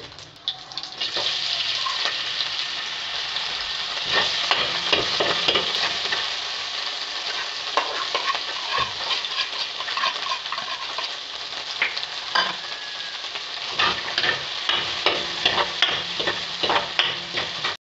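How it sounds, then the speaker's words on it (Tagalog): Pork menudo ingredients sauté in hot oil in a pan, giving a steady, loud sizzle with frequent scraping stirs and utensil clicks throughout, and no talking. "Yan, gigisa na tayo guys."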